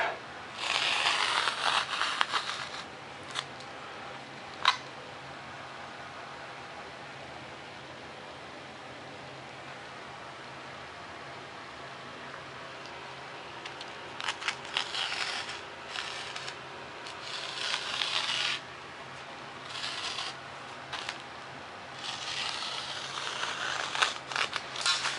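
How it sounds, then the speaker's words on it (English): Cutting a wooden wing spar, 5/16 inch high, for a Fokker DR-1 model airplane built from printed plans: soft close rasping and scraping strokes come in bursts at the start and again in the second half, with a single faint tap between. "Now there's my wing spar I just cut out, and it's 5/16 height."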